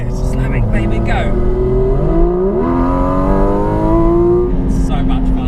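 A Porsche GT4 RS engine pulls hard and loud from inside the cabin, its pitch climbing steadily through the rev range before a brief gear change, with a person talking over the rising howl.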